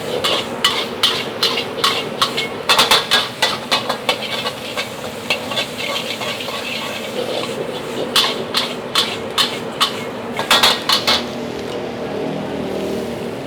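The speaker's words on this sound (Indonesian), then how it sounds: "baru kita orak-arik telurnya, langsung kita goyang" Eggs being scrambled in a hot wok over high flame for mie goreng: a continuous loud sizzle punctuated by rapid, rhythmic metallic scraping and tapping of a spatula against the wok, in bursts with brief pauses.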